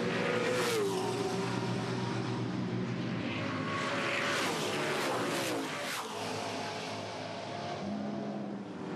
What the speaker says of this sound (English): This is the leading group of cars down to turn 5, 6 and 7.